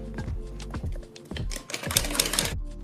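Sewing machine stitching along a cloth neckline for a matka-style neck design, a close, rapid mechanical clatter that runs in bursts with short pauses, no talking.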